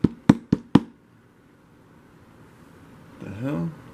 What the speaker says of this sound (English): I think someone's at the door.